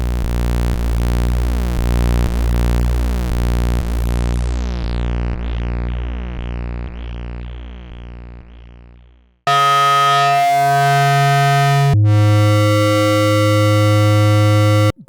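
A synthesizer with synced oscillators produces rhythmic pulsing buzzy tones with a falling sweep, loud and steady, then shifts abruptly into sustained harmonic drones that switch timbre.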